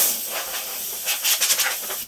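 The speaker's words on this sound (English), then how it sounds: "And a little bit of compressed air here." Compressed air blasts into a Canon PC-3 personal photocopier for cleaning, a close, loud hiss with a few quick pulsing spurts near the end before cutting off.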